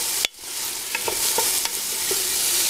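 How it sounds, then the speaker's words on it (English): Onions, garlic and seasoning dropped into hot oil and stirred, a steady close sizzle with a sharp initial hiss and several scraping spoon strokes over the frying. "Onions in, garlic in, seasoning in, and we stir."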